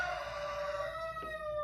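A pet rooster crows indoors from across the house: one long, drawn-out, steady call, faint and somewhat distant, with a brief knock near the end.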